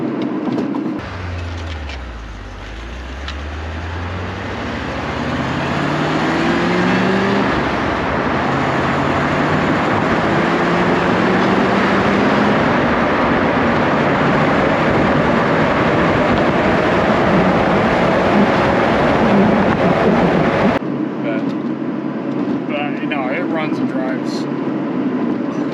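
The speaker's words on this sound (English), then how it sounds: "That 4+3 transmission shifts properly in and out of the overdrive setting." A 1985 Chevrolet Corvette Z51 with a 4+3 manual transmission drives steadily from inside the cabin, its engine drone rising through a shift at the start and then holding a constant loud road roar that drops off abruptly near the end.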